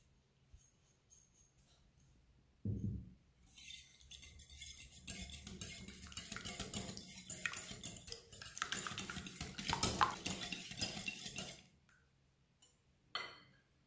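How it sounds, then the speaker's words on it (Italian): A whisk beats eggs with salt, pepper and nutmeg in a bowl for about nine seconds of steady, rapid, close clicking and scraping, bracketed by a dull knock at the start and another at the end. "Iniziamo a lavorare le uova"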